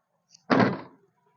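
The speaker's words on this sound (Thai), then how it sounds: "โอเคเดี๋ยวผมปิดประตูหลังแล้ว" Rear door of a 2015 Honda Jazz GK 1.5 S swung shut: one solid, close thud with a short decay, preceded by a faint click, in an otherwise quiet setting.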